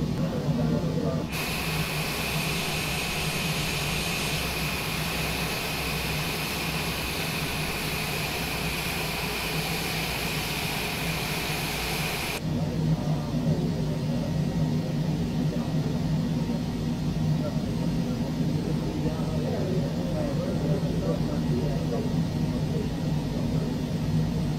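Cessna Citation Longitude private jet on the runway at Gdańsk for a snowy takeoff, a steady loud jet engine roar with a high whine that cuts off partway, then a lower continuous rumble.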